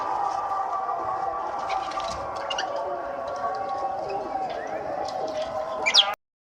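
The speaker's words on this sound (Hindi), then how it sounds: "तो ये कबूतर हमने पकड़ा।" A pigeon, a rooftop bird just caught, gives a low, sustained cooing hum, close and steady, with a few faint scuffs and a brief louder rustle before it cuts off.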